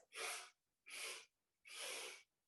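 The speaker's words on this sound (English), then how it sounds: "So the 3 sniffs, it's like this." Three quick nasal sniffs during a yoga breathing exercise, each a short breathy burst with a brief pause between, close and alone.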